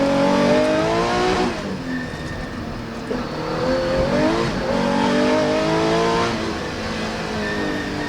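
A Porsche rally car heard onboard on a small, wet stage, its engine revving hard through rising gears with sharp downshifts and throttle lifts, loud and close with no talking.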